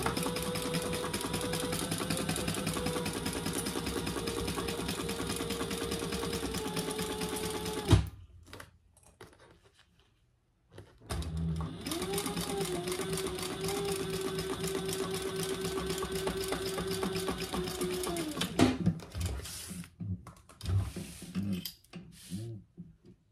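Sewing machine basting a tote bag panel, running in a long, steady whirring stitch, stopping briefly, then running again with a few short bursts at the end.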